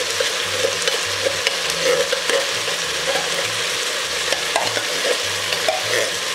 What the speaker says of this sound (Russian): Отправляем в казан 400 грамм томатов собственного соку.